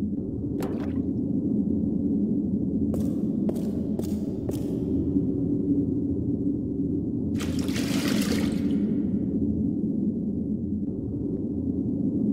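Water pouring into a container in the video game Ni-Bi-Ru, a steady liquid rush over continuous low background ambience, with a few short clicks and a brief splashy burst midway.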